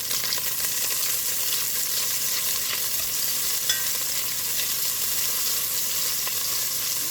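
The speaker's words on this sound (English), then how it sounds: "I'm going to also go in with a couple of tablespoons of butter. Let that melt up a little bit." A couple of tablespoons of butter melting in a pan for Mexican chicken corn chowder, hissing in a steady, even sizzle with a few faint pops, close and continuous with no talking.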